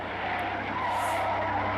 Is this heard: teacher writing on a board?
no